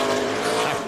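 A NASCAR stock car at the 2003 Subway 500 revs hard as its RPM jumps and the tires spin and break traction coming off a corner, a loud, continuous engine roar with no pause.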